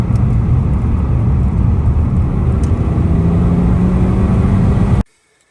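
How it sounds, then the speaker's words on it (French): A BMW E46 with an M54 engine fitted with new ignition coils revs as it downshifts, giving a loud, steady engine drone that cuts off abruptly at the end. "quand je rétrograde, du coup, il n'y a pas de... ça n'explose plus dans le pot"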